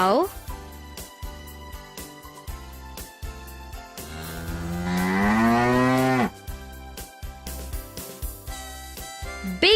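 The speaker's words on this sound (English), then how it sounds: "cow" A cow lets out a long, loud, drawn-out moo that swells and then cuts off, set against steady rhythmic background music.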